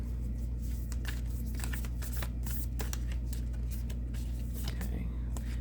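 Alchemy tarot cards being shuffled in a steady run of soft riffling and flicking, close and continuous over a low background hum, with no clear talk.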